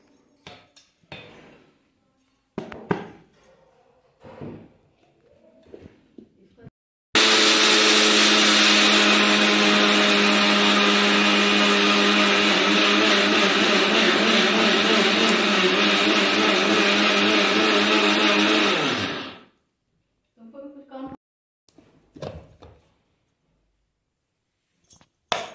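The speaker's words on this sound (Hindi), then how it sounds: "जितनी भी मिट्टी थी मैंने उसे ग्राइंड करके पूरा का पूरा पाउडर फॉर्म में कन्वर्ट कर लिया है" A small household grinder runs loud and steady for about twelve seconds, pulverising soil into fine powder, starting abruptly and winding down, with quieter handling knocks before and after.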